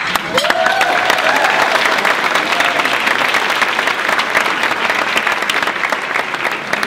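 Audience at an educator of the year award ceremony applauding the head of Rolling Hills Prep, a dense, sustained burst of clapping that fills the whole stretch and tapers slightly at the end.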